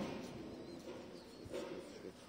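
Low, soft cooing of about 35 pigeons in a loft murmurs over a quiet background hum, faint and indistinct, with a few louder coos near the middle.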